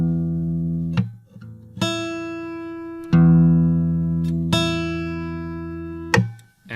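Plucked strings played one at a time from the thicker ones to the thinner ones, so the notes move from low to high: six ringing notes, each sustained and decaying before the next pluck, loud and close.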